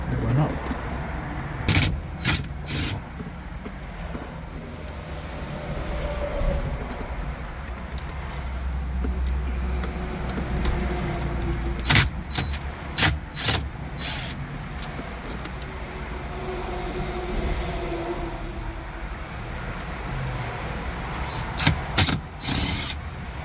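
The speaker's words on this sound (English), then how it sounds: "We're going to take 4 screws out." Four screws being removed from the radio bezel of a 2007 Hyundai Azera: a steady low hum inside the car, broken by repeated sharp clicks and ratchety taps in scattered bursts, with a voice talking at times.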